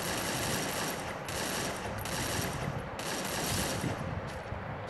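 Rapid automatic gunfire in the mobile battle-royale game Free Fire, sustained dense bursts with brief gaps, loud and continuous throughout.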